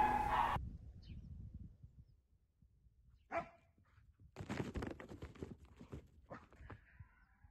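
A protection dog guarding an object during training lets out a few sharp, scattered barks amid rustling and movement, moderately close, with quiet gaps between the bursts.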